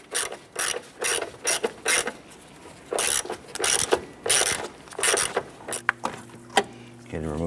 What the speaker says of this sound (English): Using an 8mm socket and extension, we're going to go ahead and remove this bolt here.